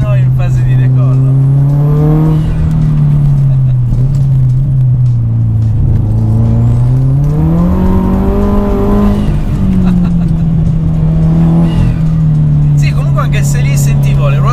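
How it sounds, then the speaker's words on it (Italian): A 428 hp Subaru WRX STi pulls hard with its turbocharger working, a loud, continuous engine drone that rises and falls in pitch with a thin whistle riding above it. "sentite la turbina. Sembra un aeroplano in fase di decollo."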